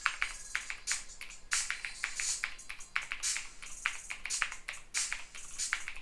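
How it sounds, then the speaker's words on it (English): Quiet, close typing on a mechanical keyboard, a quick irregular run of sharp key clicks with short pauses. "this keyboard is a fully switched, what you call a mechanical keyboard, so it is louder than your typical membrane keyboard"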